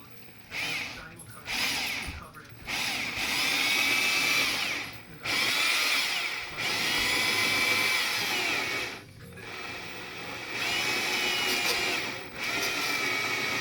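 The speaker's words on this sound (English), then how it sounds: "right now I am drilling these holes for the hinge to go on" A power drill bores hinge holes for car doors, in repeated bursts of loud whirring and grinding separated by short pauses, close to the microphone.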